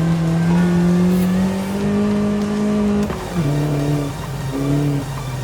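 A car's engine in the Forza Horizon 5 racing game drones loudly and steadily with a slowly rising pitch, drops sharply as the driver lifts off, then surges back in short revving pulses with a turbo whine.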